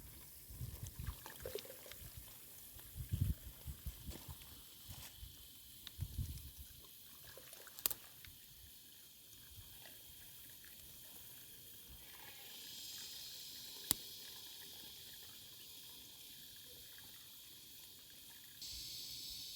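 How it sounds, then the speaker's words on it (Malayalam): Melted beeswax pours and trickles in short bursts with soft splashes against an iron kettle, then a steadier hiss and faint dribbling continue at close range. "ഈ മെഴുകുരുകുമ്പോൾ അപ്പൊ നമ്മളത് ഇതിനകത്ത് ഒഴിക്കാൻ പോവാണ്"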